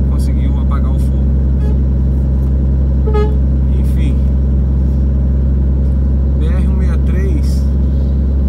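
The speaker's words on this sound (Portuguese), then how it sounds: "Tráfego intenso de caminhão nos dois sentidos, caminhões grandes carregados," Heavy, loaded trucks rolling in both directions on highway BR-163 in Brazil, a constant loud engine and tire roar close by, with a brief horn toot, under someone talking.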